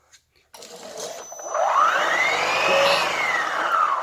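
A cordless power head for a retractable hose central vacuum switches on after a click, its motor whining up in pitch and settling into a steady, fairly quiet drone.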